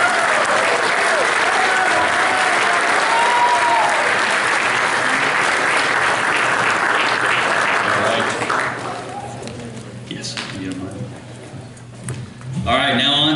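A room full of guests at a 2023 Radford Bobcat football banquet claps steadily for about eight seconds before it fades. Scattered claps and talking follow in the quieter hall.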